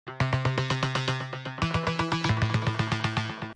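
The Pigments synth preset Double Buff plays a fast, pulsing run of bright, buzzy harmonic-minor notes in a deep progressive house style. Rapid even repeated hits shift pitch midway through and carry a gritty, distorted edge.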